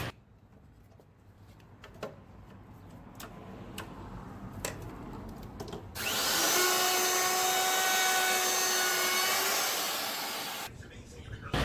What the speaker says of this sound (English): I came back with a round over bit on a router and made everything look pretty